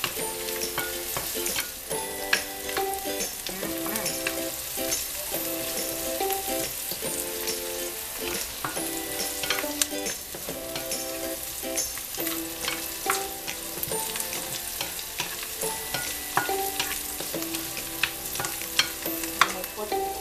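Mixed vegetables stir frying in a hot pan, a continuous loud sizzle with crackling pops and periodic stirring scrapes, close up and steady throughout.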